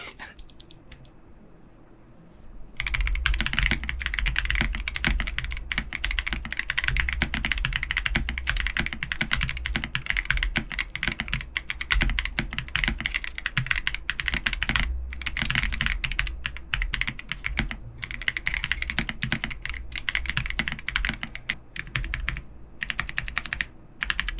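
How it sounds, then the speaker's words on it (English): Continuous typing on a QK75 mechanical keyboard with Hoshizora linear switches, a POM plate and PBT keycaps, giving steady, dense, close-up key clacks for over twenty seconds after a brief quieter start. "So my QK75 has like a lower pitched creamy sound signature"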